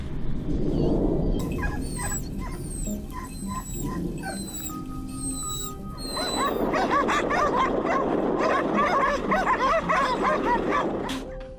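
Hunting dogs bark and yip excitedly during a wild boar hunt, a rapid series of high barks and whimpers, fairly close, with a busier chorus of barking building in the second half.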